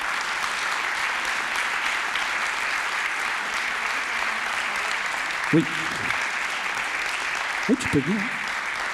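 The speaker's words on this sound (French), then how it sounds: "Vous pouvez l'applaudir." An audience applauds an award winner at an educational board game prize evening, steady moderate clapping throughout, with a couple of brief spoken words near the end.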